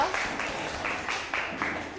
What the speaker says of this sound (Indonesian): Tepuk tangan untuk Marcel.